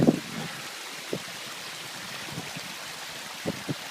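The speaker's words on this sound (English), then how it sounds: "We're having to climb through a waterfall at the moment. As you can see, water running through our feet." Mountain waterfall water runs and splashes around climbers' feet, a steady close rushing hiss broken by a few sharper splashes and drips.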